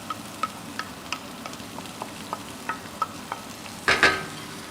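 Onions fry in olive oil for a vegetable risotto, a soft steady sizzle with light, regular taps of stirring and a louder burst of scraping near the end.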